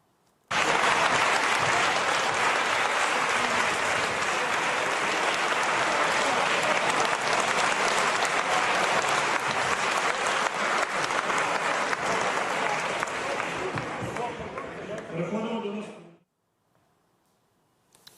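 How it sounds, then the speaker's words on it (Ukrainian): Sustained applause from a large crowd in parliament as the defence minister is dismissed, steady and dense for about fifteen seconds, then stopping abruptly. "Проводжали пана Резнікова, колишнього вже екс справді міністра оборони з посади під оплески."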